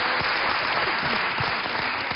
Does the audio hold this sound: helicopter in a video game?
no